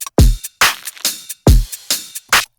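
Punchy drum loop glued together with a bus compressor and drum bus saturation: heavy kicks with booming low tails alternating with bright snare and hat hits in a steady groove, loud and up front.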